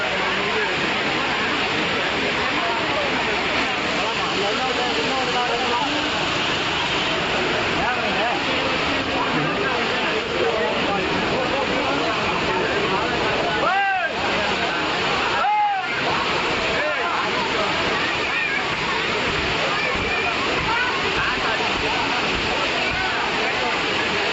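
Water crashes down steadily at the Courtallam waterfall in Tamil Nadu, a loud, continuous roar of falling water with spray, close by, with a voice talking over it.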